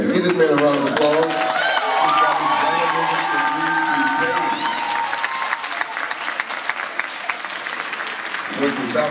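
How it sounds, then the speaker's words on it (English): Audience at an MLK winter concert applauds and cheers for a graduate, loud sustained clapping with cheering, mixed with music and voices, thinning toward the end. "Give this man a round of applause."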